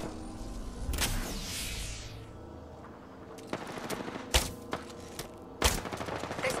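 Apex Legends gunfire crackles in rapid bursts over a low game ambience, with several sharp single loud shots spaced through the sequence.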